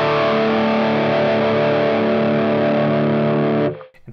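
A thick, distorted electric guitar chord with an enhancer effect and a little gate, through a Two Notes Opus Nifty50, rings out loud and sustained, then is cut off abruptly near the end, leaving faint noise.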